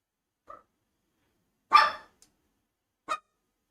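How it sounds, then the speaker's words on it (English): A pet dog gives a soft yip, then one louder bark, then another short yelp, separated by silent pauses, close and indoors. "My dog geeking right now."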